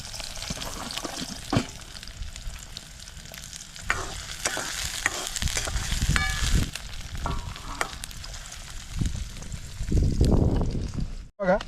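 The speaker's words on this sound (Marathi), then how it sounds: "त्याच्यासाठी अगोदर वाम परतून घ्यायची आणि मसाला आपल्याला नंतर टाकायचा." Pieces of vam eel fish are sautéed in a pan with ghee, onion and tomato at a night campsite in Maval, a continuous close sizzle with repeated stirring scrapes and clacks, swelling to a louder hiss near the end.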